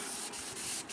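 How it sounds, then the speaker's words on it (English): Steady wet sanding of fiberglass gel coat on a houseboat repair, a continuous close abrasive rubbing hiss with slight rhythmic strokes, no voices. "you wet sand it down, and then you get off all the big rough stuff"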